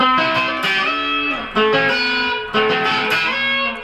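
An electric guitar rings out with many strings sounding together, a dense, slightly messy strum repeated several times with sustained overlapping notes.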